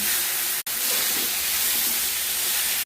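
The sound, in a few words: eggplant frying in a pan, being stirred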